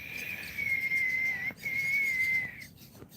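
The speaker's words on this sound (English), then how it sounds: "they know my whistle, so they'll normally come through" A person whistles two long, steady high notes to call yellow-billed kites, the tone held clear and fairly close with a brief gap between them over quiet outdoor background.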